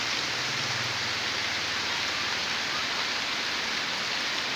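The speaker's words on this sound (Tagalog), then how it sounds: "Ulan, no? Ulanan." Steady rain falls in the rainy season after months of drought, a dense, even hiss of drops that holds throughout at a constant level with no voices.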